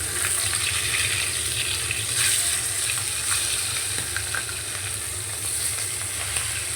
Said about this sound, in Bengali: তো আমি প্রথমে ছোটার মাছগুলি ভাজে নিতেছি, পিসগুলি পরে ভাজবো।